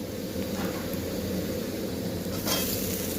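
Ground spices with coriander powder and turmeric sizzle steadily in a pan over low heat, a constant frying hiss with a faint stirring scrape near the end.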